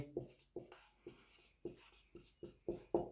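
Marker or chalk writing on a classroom board, a quick series of short scratchy strokes and taps in an uneven rhythm, close but faint, with no talk over it.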